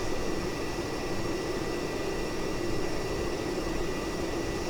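Steady broadband jet roar from an Avro Vulcan B.2 banking low through a Welsh valley in a flight simulator, a constant loud rush of engine and airflow with no talk over it.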